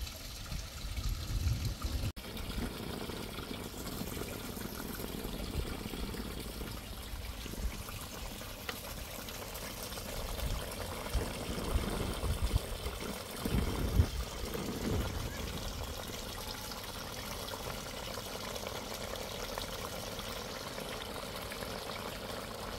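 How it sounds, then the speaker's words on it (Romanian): Water poured into a pot for boiling potatoes in a home kitchen, a steady continuous splashing pour that runs almost the whole time at moderate level, with a brief surge near the middle. "Mă duc să pun și cartofii la fiert, doar cartofi, apă și sare."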